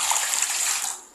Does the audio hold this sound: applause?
no